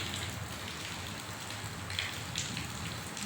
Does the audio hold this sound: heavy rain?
yes